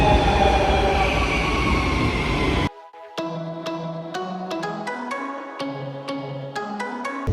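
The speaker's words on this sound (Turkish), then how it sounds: "Barcelona'da metro kullanacağız şimdi" Loud rumbling Barcelona metro train noise cuts off abruptly, followed by a quieter stretch of repeated tonal chimes and electronic beeps, like a metro station announcement signal.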